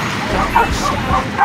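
Several pet dogs yipping and barking in short bursts, close by, with people talking over and around them.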